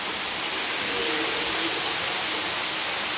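Rain falling outdoors at a camp, a steady, even hiss of downpour filling the whole stretch with no talking.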